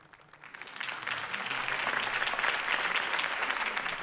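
Video game crowd applause in Batman: The Telltale Series breaks out, swelling from a faint start to a steady, dense clapping that holds to the end.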